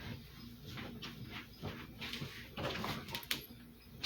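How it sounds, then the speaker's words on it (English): A dog indoors makes faint whimpering and scuffling sounds in short bursts against a quiet room background. "If it's not the kids, it's the dog."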